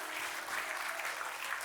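Congregation applauding at a church service, a dense steady wash of many hands clapping throughout, fairly loud and continuous with no talk over it.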